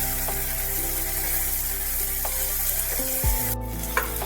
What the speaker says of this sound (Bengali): টমেটোটা পেঁয়াজের সাথে মশলার সাথে ভালোভাবে একটু কষিয়ে নিতে হবে